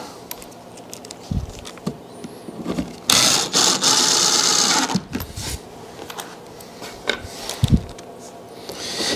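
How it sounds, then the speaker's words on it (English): A power drill drives a couple of screws into the lid of a raw pine wooden box trap, a loud steady whir for about two seconds amid clanks and handling noises. "nothing more than running in a couple screws"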